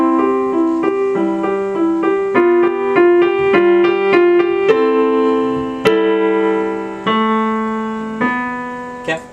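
Piano plays a phrase of a song, a clear close melody of repeated alternating notes over sustained bass tones, moving into longer held chords near the end.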